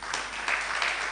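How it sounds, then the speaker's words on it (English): Audience clapping during a language training workshop, a short burst of steady, moderately loud applause filling the moment on its own. "You can clap for yourself."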